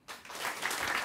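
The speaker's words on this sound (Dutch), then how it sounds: "een warm applaus voor Rob van Essen" Warm applause from an outdoor literary event audience on the Spui, starting abruptly and building quickly into dense, steady clapping for its brief length.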